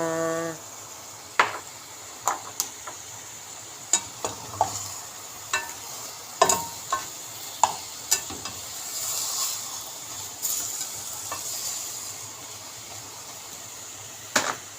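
Chicken pieces fry in a pan for tinolang manok, a steady sizzle broken by sharp clacks of a utensil stirring against the pan at irregular intervals.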